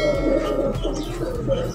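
A pigeon kept in a rooftop loft in Sialkot coos close by in low, repeated rolling calls.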